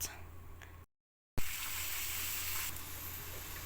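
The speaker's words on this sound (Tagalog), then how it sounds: "Naglagay na tayo ng butter. Yan. Unti-unting nagme-melt." Butter melting and sizzling in a pan while cooking Kalderetang Batangas, a soft, steady hiss that cuts out briefly and then returns a little brighter.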